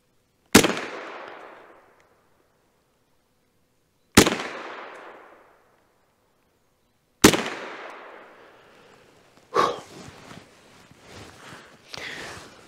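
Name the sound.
gunshots from a Kel-Tec SUB 2000 9mm semi-automatic carbine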